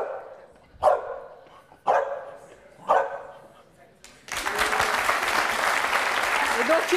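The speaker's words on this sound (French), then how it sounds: "Yankee a compté 7, en tout cas aboyé" A trained dog on a French TV show barks three sharp, evenly spaced times, fairly close. Loud, sustained applause from a studio audience then takes over.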